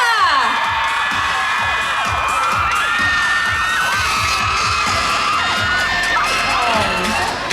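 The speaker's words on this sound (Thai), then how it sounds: "ขอเสียงกรี๊ดให้กับคุณนับและคุณนโบอีกครั้งหนึงค่ะ" A large crowd of fans screams and cheers for two celebrities at a public appearance, high-pitched shrieks layered over a dense roar, loud and sustained throughout.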